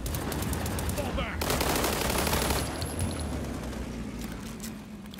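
Sustained automatic gunfire in the shooter World War 3, rapid bursts of machine-gun fire crackling close and loud across the whole stretch, with a brief lull before the barrage resumes and tails off slightly.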